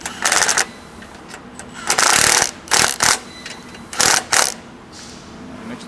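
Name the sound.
tightening recovery tow point bolts on Toyota Prado 250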